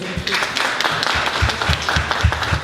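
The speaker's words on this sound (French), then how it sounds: "on peut l'applaudir s'il vous plaît." Audience at a talk event clapping, a short run of distinct, fairly loud handclaps with an uneven rhythm, as if a smaller group applauds nearby.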